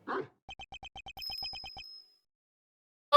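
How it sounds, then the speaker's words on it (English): A small bell on a dog's collar in the Ace Attorney video game rings in a quick run of about ten even, bright metallic pings, followed by a sustained high chime that fades out, with brief voice sounds at the start and end. "And is that a bell around its neck? Plays a sound, I guess."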